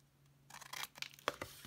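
Scissors cutting through cardstock to miter corners: a short sequence of crisp, close snips and paper rustles after a quiet start, with no voice.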